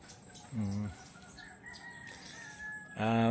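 A pure gray gamecock rooster from a breeding pen crows twice, loud and close, with faint background noise between the calls.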